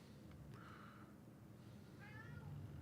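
A house cat meows twice, short faint calls separated by a pause, close by in a quiet indoor room with low background hum.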